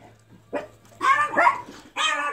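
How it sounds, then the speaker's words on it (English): A dog in a yard barks several times, a single short bark followed by two longer bursts of yelping barks, moderately close and loud over quiet background. "There's a dog in the yard."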